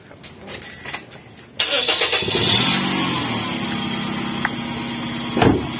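A Toyota Yaris engine cranks and catches with a sudden burst, revs briefly, then settles into a steady close idle, with a few clicks and a short bump near the end.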